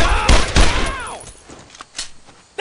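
Gunfire erupts in the World War II shooter game Brothers in Arms: Road to Hill 30, a quick burst of loud rifle and machine-gun shots followed by scattered fainter distant shots.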